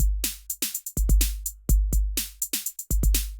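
Drum samples in Ableton play a generated MIDI groove, with punchy kicks thumping in a steady loop and sharp, bright hits and cymbal-like crashes over them, loud and dry with no voices.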